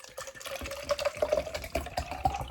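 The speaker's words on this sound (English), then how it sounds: "I guess I'm just going to put all the water that's in the bottle in there" Water poured from an old bottle into a scent blender: a close, gurgling stream with rising pitch as the container fills, steady glugging pulses throughout, no speech.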